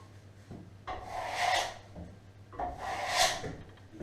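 A plastering trowel scrapes across hardening Lutece 2000L plaster on a basement wall during renovation, two crisp rasping strokes about two seconds apart, close and clear with no voices.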